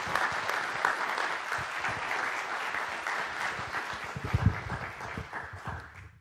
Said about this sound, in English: please give a very big round of applause to Dean Garrett.